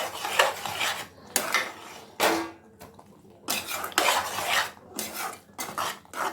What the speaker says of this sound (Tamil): கைவிடாமல் கிளறிக்கோங்க